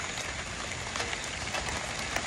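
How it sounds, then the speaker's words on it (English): Rain pours down in a steady, dense hiss that stays close and even through a short stretch, with no voices. "Here comes the rain."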